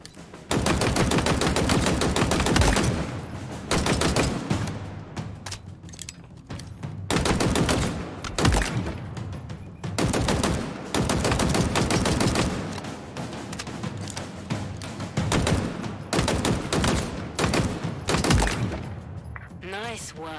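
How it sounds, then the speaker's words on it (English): Rapid gunfire rattles through a Halo Infinite tutorial as weapons shoot at shielded training targets, dense bursts repeating with brief pauses, loud and close. "Headshot these targets once you've dropped their shields."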